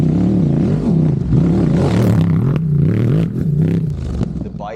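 A Ducati DesertX adventure motorcycle fitted with a new exhaust runs close by, its engine note rising and falling in revs as loud low rumbling, with clatter and scraping noises toward the end.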